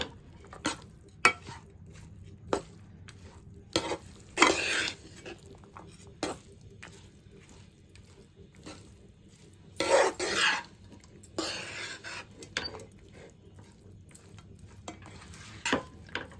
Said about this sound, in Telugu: ఇలా కలుపుకోవాలి ఫ్రెండ్స్. రైస్కి పట్టాలి ఈ మామిడికాయ గుజ్జు.